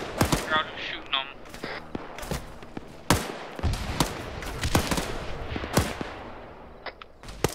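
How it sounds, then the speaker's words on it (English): Explosive shotgun rounds firing in a video game, a rapid series of sharp loud blasts and booms at irregular intervals, with voices talking between them. "It's those fucking explosive shotgun rounds, so you can figure out who's shooting them."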